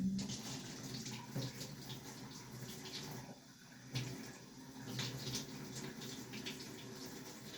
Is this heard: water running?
yes